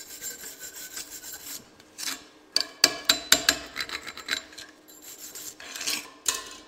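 Scraping and rasping on a flux core weld on thin-wall small-diameter tube as flux is cleaned off, in irregular close strokes, some sharp and loud, separated by short quieter gaps.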